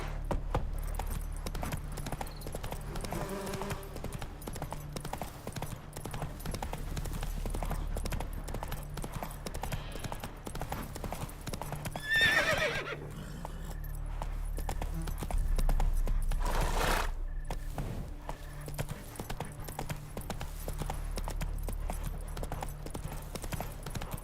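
Horse hooves clip-clopping steadily in a Witcher 3 game scene, a continuous rhythmic trot over a low ambient bed, with no clear neigh standing out.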